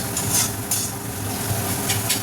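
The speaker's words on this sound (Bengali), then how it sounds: "এরকমভাবে কষিয়ে নিতে হবে।" Pointed gourd with cumin powder stir-fries in a pan, giving a low, steady sizzle broken by a few short spatula scrapes.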